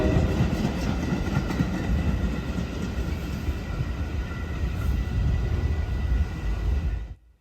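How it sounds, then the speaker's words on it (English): An inbound Metra commuter train pushed by an F-59PH diesel locomotive rolls into Franklin Park station, a steady close rumble of wheels and rail clatter that holds level before cutting off abruptly at the end. "we shot an inbound Metra being pushed by an F-59PH arriving at Franklin Park."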